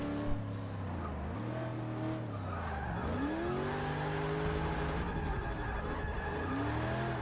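Low-horsepower budget-build car drifting in Forza Motorsport 6, the engine droning and rising and falling in pitch as it revs, with tire squeal through sustained slides, steady and close.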